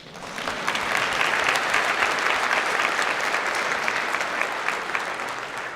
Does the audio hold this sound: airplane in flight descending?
no